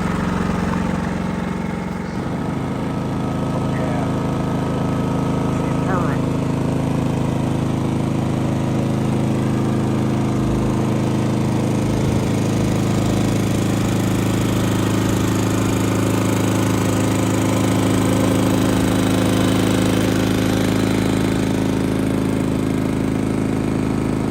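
A Genmax 7500 iAED dual-fuel inverter generator runs on low idle, giving a steady, even hum with a low tonal drone that holds at constant loudness throughout, with no voices.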